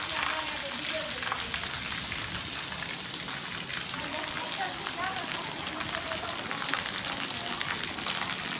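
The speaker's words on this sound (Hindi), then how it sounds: "बहुत बारिश हो रही है आज।" Heavy rain pours down in a village, a dense steady roar of water hitting surfaces with running water mixed in, loud and constant throughout.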